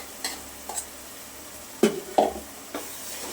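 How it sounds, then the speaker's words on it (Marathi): Masala paste for Kolhapuri misal sautés in hot oil under a soft continuous sizzle, broken by a handful of distinct spoon scrapes and knocks against the pan. "वाटण आपल्याला तेलामध्ये छान परतून घ्यायचं आहे दोन मिनिटासाठी"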